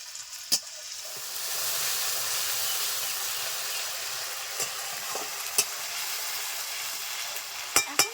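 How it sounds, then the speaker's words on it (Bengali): Wet tomato paste lands in a pan of frying ginger-garlic masala for a katla fish kalia, setting off a steady close sizzle with a few sharp clinks and scrapes of stirring. "আদা রসুনের কাঁচা গন্ধ চলে গেছে দিয়ে দিচ্ছি টমেটো বাটা এখন"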